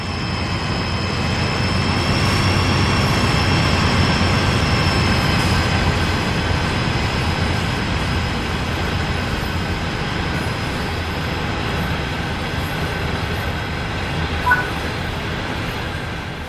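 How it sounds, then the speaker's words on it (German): An AC4400CW diesel locomotive on the Sand Patch Grade in Train Sim World 4 rumbles steadily with a constant engine drone and a faint high whine, loud and continuous, no voices. "Sie fahren momentan eine AC4400CW-Lokomotive, das Arbeitspferd unter den Zügen auf dem Sand Patch Grade."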